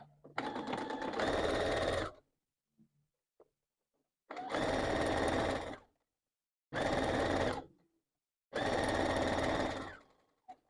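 A domestic sewing machine stitches a seam on a fabric rag doll with stitch length 2.5 and thread tension 4, running in four steady bursts of two to three seconds each with short silent pauses between, close and clear.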